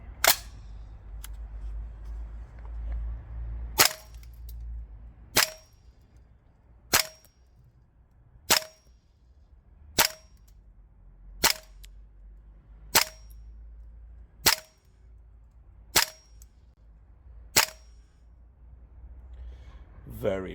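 An MWS SCAR-L gas blowback airsoft rifle running green gas fires 0.25 g BBs as single sharp cracks, about eleven evenly spaced shots a second or two apart, loud and close over a quiet low hum.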